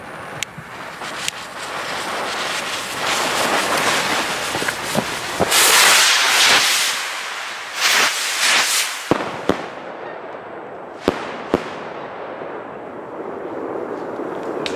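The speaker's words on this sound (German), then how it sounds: "Richtig lecker Raketen." New Year's Eve fireworks rockets bursting in loud, irregular booms and crackles, some sharp single bangs, others rolling crackling volleys, with whistling trails between.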